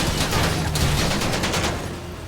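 A burst of rapid gunfire rattles out in a FiveM GTA V roleplay game, a dense volley of shots lasting about two seconds, then a short pause before one sharp loud crack at the end.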